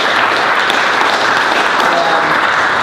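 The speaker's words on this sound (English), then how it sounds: "So if I can get just an applause for Eureka" Dense, continuous applause from an audience at a company culture event, loud and steady throughout with no pauses.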